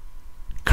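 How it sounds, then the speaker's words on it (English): A man clears his throat once, a short loud rasping burst at the end after a quiet stretch of faint background hum. "Clearing my throat."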